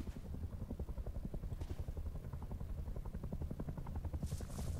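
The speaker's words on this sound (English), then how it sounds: "Oh, I hope this chopper ain't coming over here." A helicopter in the game Rust chops overhead, its rapid, even blade thumps pulsing steadily at moderate volume and sounding fairly close throughout.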